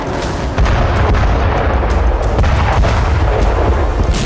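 Heavy booming blasts of Russian artillery fire in Ukraine rumble continuously, loud and dense, with sharp repeated impacts layered over a deep low roar.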